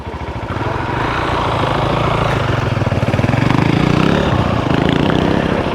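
A 700 off-road motorcycle climbing a hill in the Canadian Rockies, its engine a steady, loud buzzing drone that builds slightly and holds as it rides, with no one speaking.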